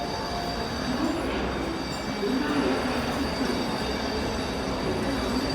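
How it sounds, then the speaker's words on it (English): An MTR train pulls slowly away from a Sha Tin Station platform with a continuous rolling rumble and a faint high wheel squeal, steady and fairly close. "Now the train will leave the platform very early, very slowly because of the tracks need to combine at the front."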